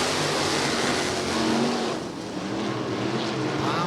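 Race cars tearing around Santa Maria Speedway on opening night, a dense, roaring wash of engines from several cars at once, loud and continuous with a slight dip and swell as the pack passes.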